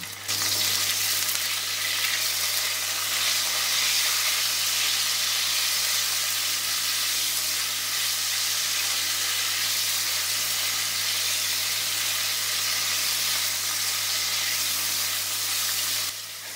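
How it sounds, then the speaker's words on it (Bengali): Loud, steady sizzling of cauliflower frying in hot oil in a wok, a continuous crackling hiss throughout with no voices. "এবার কড়াইতে তেল দিয়ে তেল গরম হয়ে গেলে দিয়ে দেব ফুলকপি আর নুন।"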